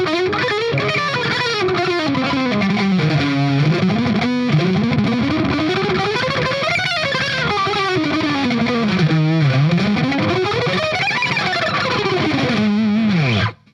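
Distorted electric guitar plays a continuous run of hammer-ons, picked notes and palm-muted passages in rising and falling patterns, loud and steady with no talking, ending abruptly.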